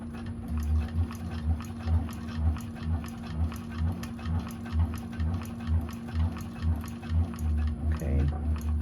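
A Pfaff 1341 cylinder arm sewing machine stitches a Calgary Crossbody bag, running close by in a steady, rhythmic chatter with faint pulsing and a short pause near the end. No voices.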